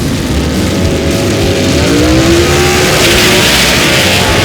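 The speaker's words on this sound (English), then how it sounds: "Brad Wimberly out of Atlanta, Georgia, getting up to the line, getting set" Gasser drag race cars at Brainerd Motorsports Park launch together with a loud, sustained roar as the engines rev up, the pitch climbing steadily, close and dominant with no talk.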